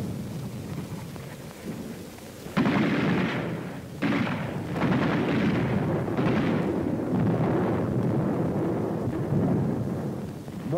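Mortar and artillery fire in a wartime battle near Mount Lungo at San Pietro, with heavy rumbling blasts that begin abruptly and recur several times over a low, continuous roar.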